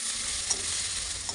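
Garlic, green chilies and onions fry in oil in a pan, a close, continuous sizzle with light stirring scrapes and no voices.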